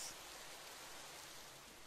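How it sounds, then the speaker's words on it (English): Soft, steady rain falls in the video game Psychedelica of the Black Butterfly, a quiet even hiss throughout with no talking. "Was that the rain?"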